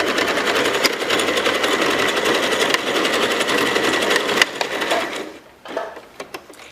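A sewing machine runs continuously at high speed, back tacking fabric on a fabric basket, a loud close buzzing drone that cuts off near the end, followed by a few brief clicks.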